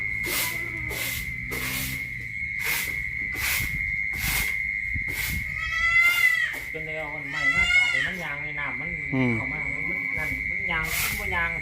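Several goats bleat repeatedly, some calls loud and close, over a steady high electronic whine and occasional rustling.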